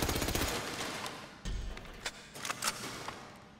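Rapid gunfire at a shooting range in GTA 5, with dense bursts of shots up front, then a loud thump and scattered single shots, all fairly close and without talk.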